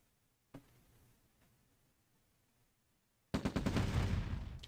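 Gunfire in the Red Alert strategy game OpenRA as barrels are shot: a single sharp shot, a faint second one, then a loud rapid burst of automatic fire near the end.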